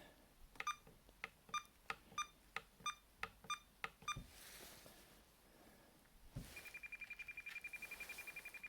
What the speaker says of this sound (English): The beeping gives you a audio indication of your SWR.